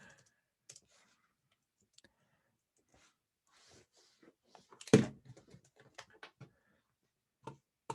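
Clicking and tapping from a malfunctioning computer keyboard, scattered faint clicks early, then a louder burst of uneven key strikes and taps near the end, with no talking.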